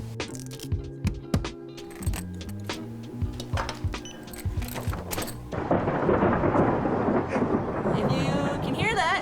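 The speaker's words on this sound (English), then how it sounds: "There's lots of thunder and lightning." Rain falls steadily during an outdoor camping trip in Montana, with deep thunder rumbling beneath it. Irregular clicks and knocks come first, then the rain swells into a dense, close hiss.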